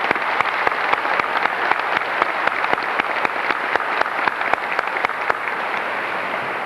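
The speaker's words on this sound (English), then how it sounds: "Graduates, would you join me in giving your parents a round of applause for this support?" A graduation ceremony crowd gives the graduates' parents a sustained round of applause, dense steady clapping filling the hall with a few sharper individual claps popping out near the front.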